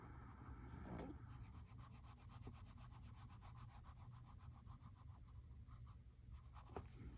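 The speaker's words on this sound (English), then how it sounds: "I'm trying to keep it on that flat area and not lifting it off the paper unless I'm moving the pencil" A Prismacolor colored pencil shades across paper with a continuous soft, scratchy rubbing, steady back-and-forth strokes up close and quiet, with no talking.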